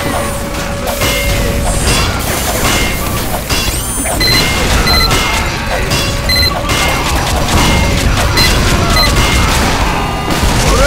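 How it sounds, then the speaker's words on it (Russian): Frantic Team Fortress 2 combat on the Dustbowl map as a sentry turret is destroyed: dense, continuous mechanical clanks, booms and crashing gunfire layered together at a steady, loud level throughout. "Турель уничтожена!"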